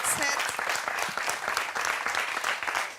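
Dense, continuous applause from a studio audience at a French mentalist television show, loud and close, with no pauses.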